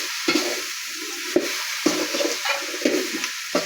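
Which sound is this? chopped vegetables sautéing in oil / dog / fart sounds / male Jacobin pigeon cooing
chopped vegetables sautéing in oil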